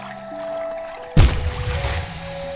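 A character in the video game Hollow Knight drops into water, a sudden loud splash that churns and fades over a second or so above a steady low game tone, with no talk.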